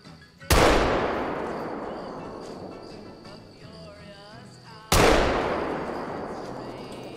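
Two loud rifle shots in a hunting video game set on the Vurhonga map, each a sharp crack with a long rolling echo that fades slowly, spaced about four seconds apart, with faint ambient sounds between them.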